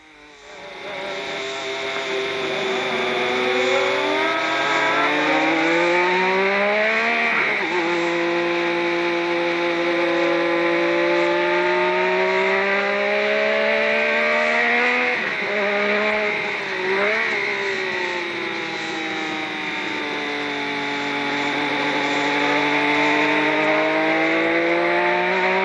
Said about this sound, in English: Now we ride with Nigel Mansell in his Lotus